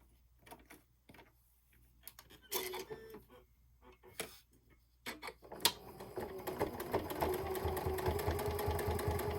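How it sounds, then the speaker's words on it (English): A sewing machine stitching binding onto a mini quilt, starting with scattered clicks and short bursts before settling into a steady, fast mechanical whir up close. "And of course just sew straight over it."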